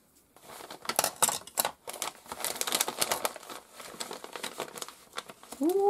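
An envelope being torn open and its paper contents handled, giving continuous close crinkling and rustling with sharp tearing crackles for several seconds, no talking.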